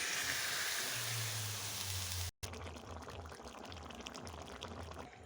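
Papaya pieces going into a pan of hot oil and spices with turmeric and chilli powder, giving a broad steady sizzle that breaks off for a moment and then returns as a continuous frying hiss.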